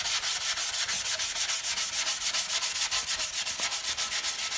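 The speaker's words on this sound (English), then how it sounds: "I just wanted to see what we could do here with just a little bit of rubbing" A rusty engine part from a VW Beetle 1600 dual port engine is rubbed with lime oil in steady, even back-and-forth strokes, close and continuous, with no talking.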